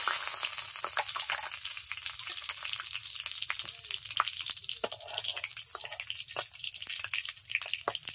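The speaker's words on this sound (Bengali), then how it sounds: "তেল গরম হয়ে গেছে, দিয়ে দিচ্ছি একটা শুকনো লঙ্কা, একটা তেজপাতা, গোটা সাদা জিরে" A dry red chilli, bay leaf and whole cumin seeds sizzle in hot oil in a pan, a steady close hiss peppered with quick spitting crackles and pops throughout.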